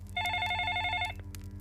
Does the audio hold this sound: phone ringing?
yes